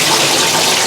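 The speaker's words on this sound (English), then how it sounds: "So sieve out the water." Water from washed king prawns pours through a sieve in a kitchen, a steady, close, full-bodied rush and splash that keeps going without a break.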